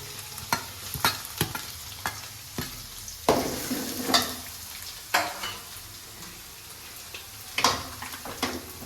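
Ginger and garlic frying in hot oil for chicken pepper dry, a constant crackling sizzle broken by repeated sharp scraping knocks of a spatula stirring against the pan.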